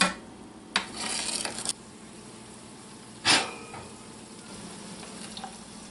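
Butter melting in a pot for canning, a soft steady foamy sizzle running throughout with a few brief louder scrapes and clinks of a utensil against the pot.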